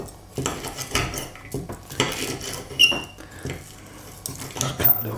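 Knife and fork cutting a breadcrumbed, pan-fried lamb chop with a bone on a plate, giving light, irregular clinks and scrapes of cutlery, fairly quiet and close.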